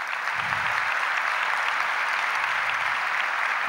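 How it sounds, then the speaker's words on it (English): An audience in Sai Kulwanth Hall at Prasanthi Nilayam gives the awardees a big round of applause. The clapping is dense, even and sustained, with no talking over it. "let's have a big round of applause for all the awardees"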